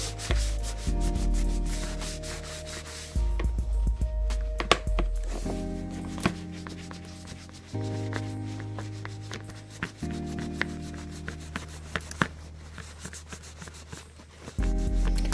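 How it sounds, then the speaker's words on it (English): A hand-made leather leash is rubbed briskly to raise a sheen, producing repeated close rasping strokes in bursts of a few seconds, separated by brief pauses and light thumps. "I will rub till I don't get any more lifting"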